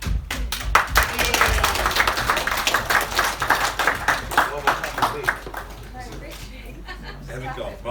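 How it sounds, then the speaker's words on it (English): A wedding reception crowd breaks into brisk clapping during a speech, with chatter and voices mixed in, before the clapping thins out and gives way to quieter room sound. "Round of applause, please."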